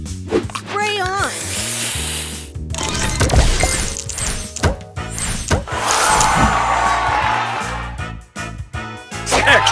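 Spray booster effect in the Match Masters puzzle game: bursts of hissing, crackling and shattering game sounds layered with chimes and musical tones, loud and continuous, with a synthetic game voice announcing moves.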